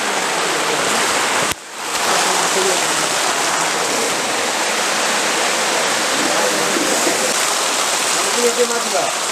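Heavy rain pours steadily outdoors while duck meat gravy is cooked in a village, a loud dense wash of hiss that holds almost unbroken, with a brief dip near the start.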